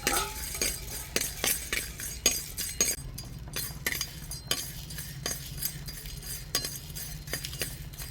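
Roasted coriander seeds, cumin, cardamom and spice buds are tipped into a stone mortar, making a rapid run of sharp, dry clinks and rattles close up, in uneven bursts with no talking.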